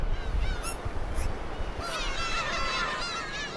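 Black-tailed gulls call on rocky Dokdo island: several honking, mewing cries rise over steady wind and surf noise, growing busier toward the end with overlapping voices.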